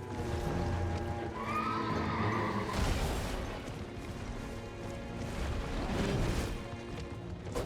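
A horse whinnies and neighs several times in Elden Ring, with hoof clops, heavy crashing impacts and skids from its charging attack, all fairly loud in the mix.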